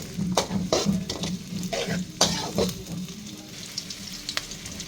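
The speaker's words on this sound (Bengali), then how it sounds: "থেতলে নেওয়া রসুন দিয়ে দিচ্ছি পরে দিয়ে দিচ্ছি পেঁয়াজ কুচি" Crushed garlic and five chopped onions fry in a pan for a chicken dish, giving a close, crackling sizzle broken by repeated metal utensil scrapes and stirring clatter, with no voices.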